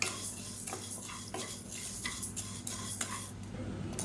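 Urad dal dry roasting in a kadai, stirred with a metal spoon that scrapes and clinks against the pan in an uneven rhythm over a faint rustle, close and quiet, no talking.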